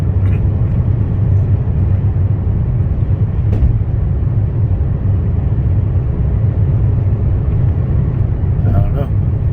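Inside a car with the air conditioning running on recirculate, a steady low rumble and fan hiss hold throughout at even, fairly loud level, with brief faint clicks.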